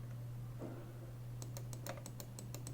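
Clicks of the scroll wheel on a Corsair Glaive RGB Pro mouse, a short series of crisp, slightly harsh clicks heard close up over a steady low hum.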